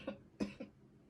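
A child's or adult's cough indoors: four short separate bursts, the first three close together and a fourth after a pause, fairly quiet and alone with no talking.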